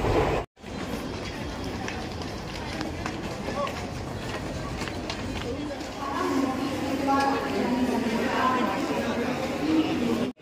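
A passenger train runs between Thane and Ghatkopar stations, its carriage rumbling and rattling steadily with a constant background of voices and chatter. There is a brief cut near the start, and the noise swells a little later on.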